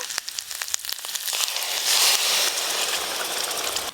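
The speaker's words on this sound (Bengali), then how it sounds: "পেঁয়াজ, আদা, রসুন লাল লাল করে ভেজে নিয়েছি, মশলার পেস্ট দিয়ে দেব" Spice paste goes into a pan of onion, ginger and garlic fried until reddish, setting off a loud, close, steady sizzle that swells after a few crackling pops and holds to the end.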